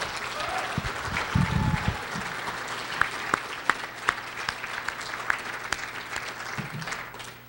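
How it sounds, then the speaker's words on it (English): An audience at an awards ceremony for the Lucas Oil series in Hollywood, California, applauding in a steady, moderately loud burst of clapping that holds throughout, with scattered sharper claps standing out. "Let's give him a round of applause."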